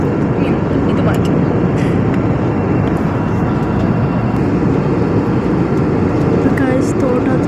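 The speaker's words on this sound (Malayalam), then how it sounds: "തോട്ടത്ത് ഫ്ലൈറ്റാണ് ഗൈസ് പോകുന്നത്" A passing aeroplane produces a loud, steady broadband roar that fills the whole stretch at a constant level, heard outdoors.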